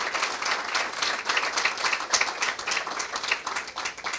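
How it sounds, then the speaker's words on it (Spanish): Audience applause at a lecture on the national archive, a dense burst of many hands clapping at steady loudness for about four seconds, with no speech over it. "Noel de la Rosa, un fuerte aplauso para todos ellos."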